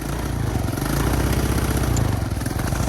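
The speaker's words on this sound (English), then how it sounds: "Let me try a little throttle on it now." A 125cc Tao Tao motorbike engine runs close and loud, its rough, rapidly pulsing putter rising slightly as the throttle is opened.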